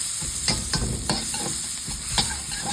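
Leeks and mixed vegetables for Japanese yasai itame sizzle steadily in a pan while a utensil scrapes and stirs them in repeated strokes, close and fairly loud with no talk.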